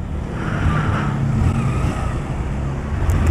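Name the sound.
cars passing at a petrol station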